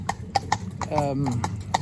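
Hooves of a Cob Cross pony trotting in a quick, even clip-clop, close and distinct, with a voice talking over part of it.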